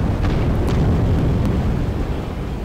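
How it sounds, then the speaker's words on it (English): Dynamite goes off in the video game Atom Zombie Smasher as a loud, rumbling blast with heavy low-end roar, sustained across the moment and fading slightly at the end. "That's my dynamite exploding and not doing much at all."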